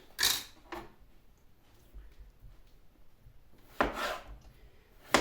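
Potatoes are pushed through a slicing tool to cut them into fries: two quick, crisp chopping crunches, a quiet pause with faint rubbing, then another firm crunching cut and a final thud.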